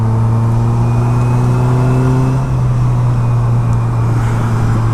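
A Slingshot three-wheeler drives on a winding mountain road, its engine droning loud and steady with a tone that shifts midway as the revs change, plus wind and road rush.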